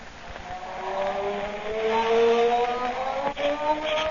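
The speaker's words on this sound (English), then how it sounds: "That was the sound of the Blue Beetle's magic ray." A humming magic ray from the Blue Beetle in an old radio drama gives off rising, wavering tones that swell and fade over a few seconds, alone without speech.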